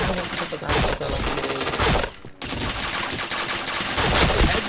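Rapid video game gunfire crackles in dense, continuous bursts, loud and close, with one brief break partway through before the shooting resumes.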